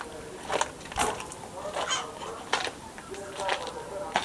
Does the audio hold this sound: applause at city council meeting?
no